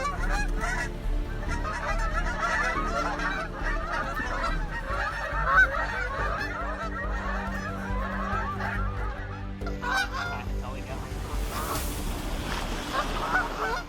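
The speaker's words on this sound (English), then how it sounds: "Canadian geese are ranked as the second most hazardous bird species to aircraft" A large flock of wild Canada geese honks continuously, many overlapping calls close and loud throughout, with no talking.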